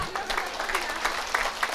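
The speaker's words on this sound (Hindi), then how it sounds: "ताली भी बहुत धीरे धीरे बजा रहे हैं आप।" Slow, sparse applause from a lecture hall audience, a few scattered claps at an unhurried pace, with a speaker's voice running over them.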